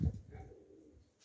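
A single soft pigeon coo from grey-mottled pigeons in a dovecote, close and brief, fading quickly.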